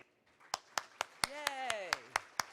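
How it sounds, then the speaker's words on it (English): Steady, widely spaced hand claps in a conference hall, about one per quarter second, greeting honored elected officials standing at a neighborhood best practices conference, with a sliding tonal sound and voices faintly underneath. "please stand so we can give you a round of applause"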